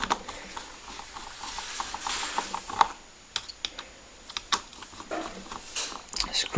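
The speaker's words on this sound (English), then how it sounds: "Screw them down a little bit, not all the way." Small screws are driven into a mini E-Revo RC car, giving close, irregular ratcheting clicks and sharp ticks in quick bursts against a quiet background.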